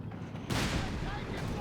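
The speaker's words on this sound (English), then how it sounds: "Oh my god, Panzer IV wiping 3 models with a single shot." A Panzer IV tank in Company of Heroes 3 fires a single heavy cannon shot, with a sudden loud boom near mid-clip and rumbling battle noise continuing behind a caster's voice.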